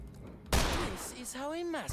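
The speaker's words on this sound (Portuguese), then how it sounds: "Vamos meter bala nesse cara." Ranged-attack gunfire in The Lamplighters League strikes with a sudden loud blast, followed by ringing tonal tails and whooshing effects, with a voice talking over it.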